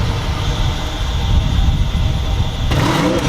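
A 2013 Mercedes S550 with a V8 engine idles with a loud, steady rumble, then the sound shifts abruptly near the end as the engine catches and settles.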